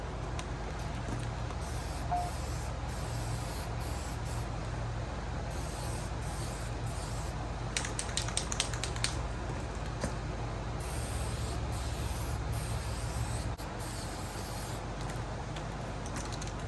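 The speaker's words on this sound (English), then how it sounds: "we're ready to spray." Steady hiss of Rust-Oleum appliance epoxy enamel aerosol spray paint on wheels, running continuously for several seconds, with a few short bursts partway through over a constant low hum.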